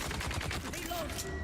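Rapid bursts of gunfire from the sci-fi survival game Dune: Awakening, a short rattling volley of closely spaced shots over a few moments, under a faint background with a brief tonal whine.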